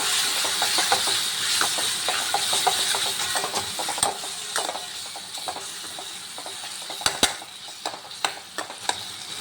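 Idli sambar simmering in a pot is stirred with a spoon, producing a steady bubbling hiss under scattered scraping clinks that grow sharper and more distinct toward the end.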